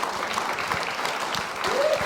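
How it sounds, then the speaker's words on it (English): An audience gives a round of applause after a science-and-faith Q&A talk, a steady, moderately loud patter of many hands with a brief tone sounding near the end. "Can we give him a round of applause?"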